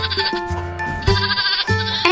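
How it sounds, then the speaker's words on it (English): A baby merino lamb bleats repeatedly and close by, several short wavering cries in quick succession with no talk over them. "And this is my baby merino lamb."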